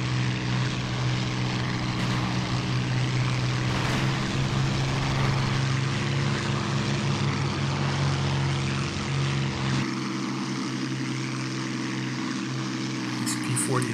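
Propeller engine of a P-40 fighter plane in a flight video game at El Alamein, 1942, a steady loud drone with deep throbbing tones that holds for the whole stretch, easing slightly near the end.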